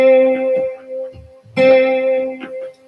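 A sustained electronic tone with a swirling flanger and chorus effect plays twice, each note shimmering and warbling before fading.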